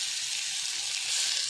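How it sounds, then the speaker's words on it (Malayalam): Mustard seeds splutter in hot oil in a home kitchen: a dense, steady crackling sizzle, close and fairly loud throughout, with no voices. "കടുകൊന്ന് പൊട്ടട്ടെ കേട്ടോ."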